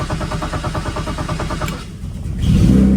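A car engine that has just been repaired cranks with a rapid series of rhythmic starter pulses for about two seconds, pauses briefly, then catches and settles into a louder steady idle.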